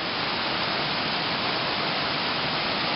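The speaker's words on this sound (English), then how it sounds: "Spring-fed waterfall comes right out of the side of the bluff there" A spring-fed waterfall pouring out of the side of a rock bluff at Clear Creek Park, heard as a steady, dense broadband rush of falling water throughout, fairly close, with no voices.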